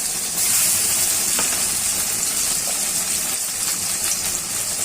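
Garlic and ginger paste hits hot oil alongside already fried onions for a chicken biryani, giving a loud, close, bright sizzle that crackles and hisses steadily throughout, with no talking.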